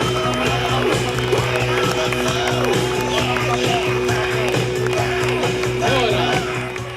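Crowd applause at a boxing match in Villasimius, a dense wash of clapping from a sizeable audience, steady and fairly loud, easing slightly at the end.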